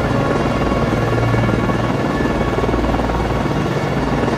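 Steady, loud rotor and engine roar of a helicopter launching from the frigate USS Nicholas (FFG-47) in the Cold Waters naval game, continuous and close throughout without a break.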